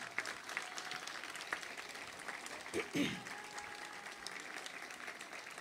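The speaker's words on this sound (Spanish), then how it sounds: "Para ellos pido un gran, un enorme aplauso" A crowd applauds at the inauguration of a residential neighborhood, the clapping fairly distant and moderate in volume, spread across an open space with a few louder nearby sounds mixed in.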